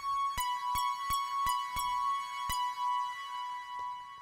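Synth notes played at 100 velocity in a hip-hop beat: six sharp, bright plucked hits in a loose rhythm over a sustained tone, with a fainter hit near the end, and no voices.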